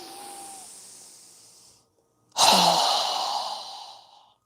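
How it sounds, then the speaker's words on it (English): A long breath in tapers away during a yoga breathing exercise, then after a short pause comes a strong, loud, forceful exhale that hisses close up and fades out over about two seconds. "So go ahead and inhale. Strong exhale."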